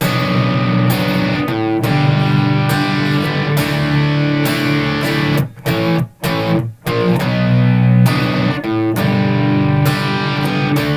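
Loud, heavily distorted electric guitar power chords played in a driving rhythm, with a few abrupt choppy stops midway before the thick chords resume.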